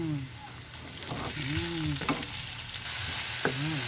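Shrimp paste (alamang) frying in a pan with garlic and onion, a constant sizzle under brief tonal squeaks and scrapes of a stirring spatula, close and moderately loud with no talk.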